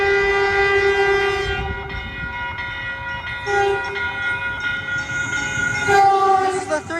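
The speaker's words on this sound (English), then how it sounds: "And here comes Caltrain 114." Caltrain 114, a southbound local train, arrives at South San Francisco station, sounding a loud multi-tone horn in several blasts over a rumbling approach, with faint talk in the background.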